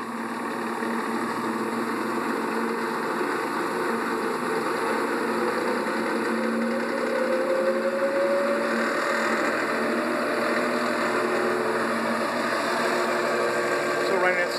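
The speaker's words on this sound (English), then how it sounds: "as I turn this dial right here I can begin to ramp up the speed and you can hear the motor start to increase" A drill press motor on a variable frequency drive runs as a steady, close hum that climbs in pitch as it ramps up to speed, and continues without pause throughout.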